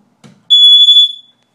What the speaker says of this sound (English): We're just going to come in and do a smoke detector check.